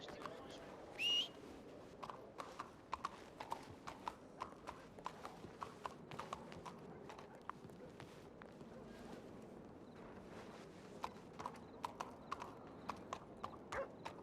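Horse hooves clip-clop in a steady, even rhythm on hard ground, with a brief whistle near the start and faint voices at times.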